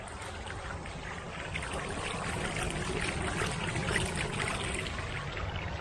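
Water trickles outdoors in a steady, soft, continuous wash with faint gurgles, fairly quiet and unbroken, with no voices.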